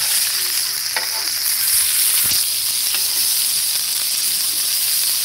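Bacon and burgers sizzle on a griddle stand outdoors at Whitefish Lake, a steady dense hiss of frying fat that fills the whole clip with a few faint pops and clicks and no talk.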